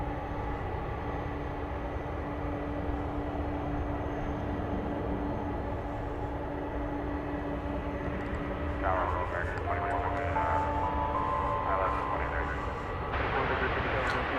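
A fixed-wing airliner takes off from the west side of DFW Airport at night, its engines a steady distant roar that swells slightly toward the end, with people talking over it throughout.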